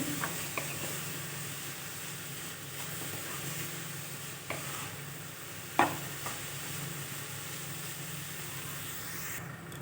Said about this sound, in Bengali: বেশ কিছুক্ষণ ধরে ভাজতে হবে পেঁপের কাঁচা গন্ধটা যেন না বেরোয়